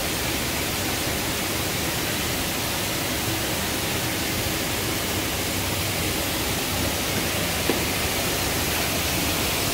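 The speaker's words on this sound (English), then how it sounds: "Literally right over there is the waterfall." Steady, loud broadband rush of a waterfall right beside an old 1900s mill, a continuous roar filling the whole clip with no breaks and no talk over it.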